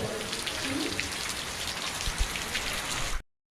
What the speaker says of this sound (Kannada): ಮಳೆ ನೋಡ್ರಿ ಹೆವಿ ಬರತ್ತೈತಿ ಮಳೆ.